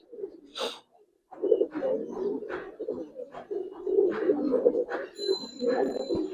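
Close, steady cooing from Giribaz and coloring pigeons, low rolling calls overlapping continuously after a brief pause near the start, with no talking.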